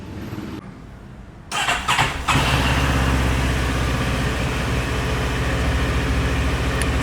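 CFMoto 700 MT motorcycle with its stock exhaust starting up: a short starter crank, then the engine catches and settles into a steady, fairly loud idle close by.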